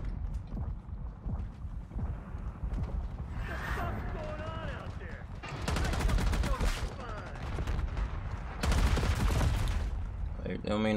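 Black Ops 6 match with bursts of gunfire and grenade blasts in two loud clusters, over steady background game noise and voice chat.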